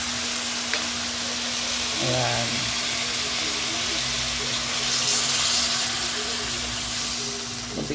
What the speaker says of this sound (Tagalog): Ngayon mga lods ay lagyan natin ng konting